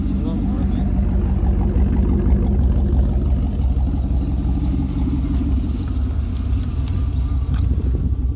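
A 1932 Ford Deuce roadster with a big block engine drives along, its loud, deep, steady rumble continuous throughout with voices talking over it.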